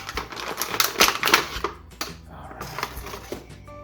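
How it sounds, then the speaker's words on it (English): A knife saws and snaps at hard plastic packaging around a toy action figure, producing close, crackling scrapes and clicks in quick uneven bursts, then quieter fiddling. "Either this knife sucks or this plastic is strong."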